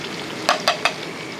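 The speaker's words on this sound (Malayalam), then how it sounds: "ഇപ്പോൾ വറക്കുന്ന സവോളയും തേങ്ങയും കൂടെയാണ് വറക്കുന്നത്." Sliced onions and grated coconut frying in hot oil for a chicken biryani gravy, a low steady sizzle broken by three quick scraping stirs of a spoon in the pan, close and alone without voices.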